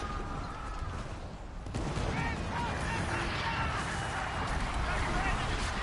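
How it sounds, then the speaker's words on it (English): Ship cannons fire in the Skull and Bones naval game: a dense, loud barrage of booming shots and crashing impacts that swells after a brief lull and rolls on continuously. "I just got these cannons."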